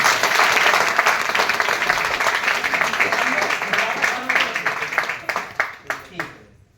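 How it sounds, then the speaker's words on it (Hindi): A crowd at a motivational speaking event breaks into steady applause for the guests that thins out toward the end into a few scattered individual claps. "एक बार हमारे चारों अतिथि के लिए जोरदार तालियां।"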